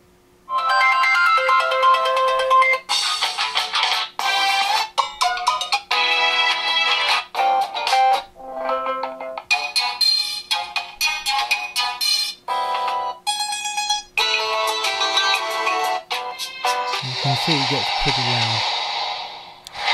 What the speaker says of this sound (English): Now I want to show you the ringtones as well.